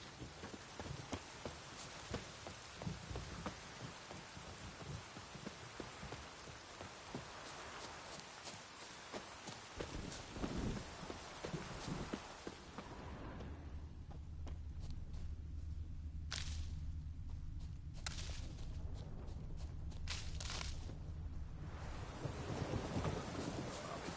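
Rain hisses and thunder rumbles in the open-world game The Witcher 3, a dense wash of falling rain with crackles and low rolling thunder, thinning midway to a quieter steady patter.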